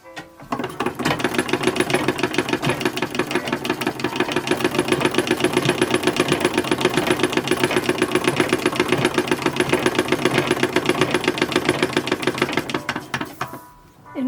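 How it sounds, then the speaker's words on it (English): A chain-stitch sewing machine sews plaid fabric for an 1870s overskirt, producing a loud, steady rapid mechanical whir with a dense clatter of needle strokes that runs continuously for about twelve seconds before stopping. "I use this machine. And I'm going to try to match the plaid on all of this."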